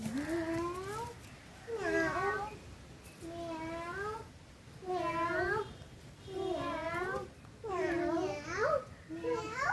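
A child repeatedly imitates a cat's meow, about six drawn-out, rising and falling mews in a row, close and fairly loud.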